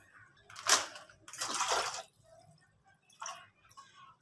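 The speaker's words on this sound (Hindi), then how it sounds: "इसमें पानी ऐड करूँगी" Water poured into a pan in a home kitchen while making noodles, heard as two splashing pours, then a shorter third, fairly close and moderately loud with quiet pauses between.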